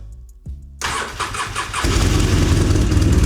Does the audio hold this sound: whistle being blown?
no